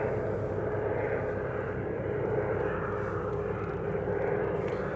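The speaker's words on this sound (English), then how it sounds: "Jet 2 from Agadir next. Flight 1762, JZBW coming in." A Jet2 passenger jet arriving from Agadir comes in to land at Manchester Airport, its engines a continuous, even roar heard from a distance that holds steady throughout.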